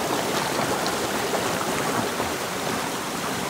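A water fountain by a mountain road pours into a water bottle with a steady, loud rushing splash that holds on without a break and without any voice.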